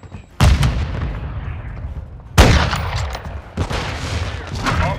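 Sticky grenade blasts in Call of Duty Modern Warfare 2 multiplayer, two loud close booms with long rumbling tails, the second one heavier, followed by further gunfire and explosions in the background.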